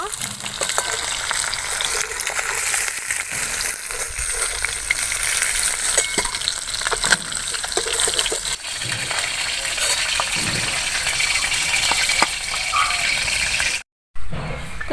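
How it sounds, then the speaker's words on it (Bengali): Magur catfish frying in oil for a village-style thin curry, with a loud, constant crackling sizzle and occasional stirring clatter throughout, briefly dropping out near the end. "মাছগুলো ভাজা হয়ে গিয়েছে,"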